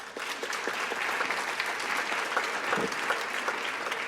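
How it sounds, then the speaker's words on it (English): Audience at a community foundation awards evening applauds the night's winners; full, steady crowd clapping at moderate loudness, continuous from start to finish. "please join me in a big round of applause for all of tonight's winners"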